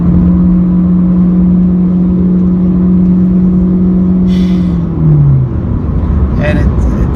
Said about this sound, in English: I want to step on it and you guys will hear the rubber bandy effect, and then the car barely starts moving.